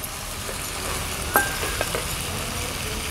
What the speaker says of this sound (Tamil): கத்திரிக்காய் போட்டு இந்த கிரேவிலே கத்திரிக்காவை நல்லா நம்ம கொஞ்சம் ஒரு 5 நிமிஷம் கழித்து பார்க்கலாம். நல்லா வேக வைக்கலாம்.